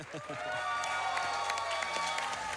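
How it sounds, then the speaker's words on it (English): An AGDQ 2020 audience applauds and cheers a Sekiro speedrun, with loud, sustained clapping and some cheering and a few voices mixed in. "So let's give him a big round of applause for his all beats on his run of Sekiro."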